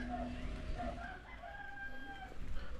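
Chickens and young chicks in a coop, with clucks, peeps and a rooster-like crow calling repeatedly over a steady low background, fairly close and moderately loud throughout.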